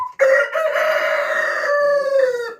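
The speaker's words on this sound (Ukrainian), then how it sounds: "Це вже ранок наступного дня, то півніки повікають." Close, loud crowing from a rooster among New Hampshire hens in the morning, one long drawn-out cock-a-doodle-doo with a slight falling tail and no talk.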